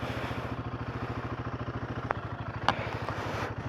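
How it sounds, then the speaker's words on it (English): A motorcycle idles with a steady, close, pulsing throb while it is rolled off its main stand, and two brief metallic knocks stand out over the engine. "now that the bike is off of the main stand, now the next challenge is to go up there"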